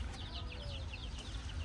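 Newly bought chicks in a brooder make a quick run of high, thin peeps, several overlapping, fairly faint over a low steady hum.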